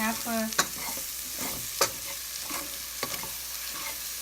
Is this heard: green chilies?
yes